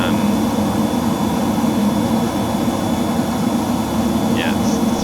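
Eurofighter jet engine throttling back in MSFS 2024 during a low-level flight near the Mach Loop, a steady loud cockpit drone with a strong low hum and a constant high whine, under a voice.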